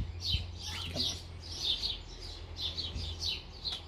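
A pet cockatiel chirps repeatedly in short high tweets, close by and fairly soft, with a brief spoken word from a person partway through.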